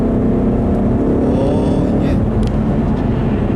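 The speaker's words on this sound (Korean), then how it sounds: "기어가 내려갈 때 회전수 올라오는 속도는 독일차만큼 빠르지는 않고요" Ford Mustang GT engine revving as the gearbox downshifts, a loud, steady, close engine drone with a rising tone, a brief spoken word over it.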